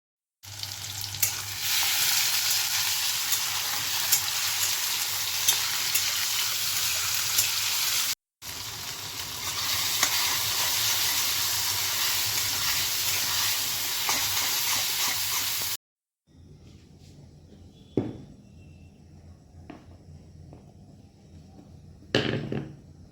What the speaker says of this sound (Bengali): কিছু আলু ভাজা বা যাই হোক কিছু একটা ভাজবো, কড়াই চাপিয়েছি